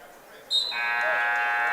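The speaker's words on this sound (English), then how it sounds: "And a whistle right at the buzzer." At a varsity boys wrestling match in a gym, a short sharp tone cuts in, then a loud sustained buzzer blares steadily to end the period, close and dominant over faint background.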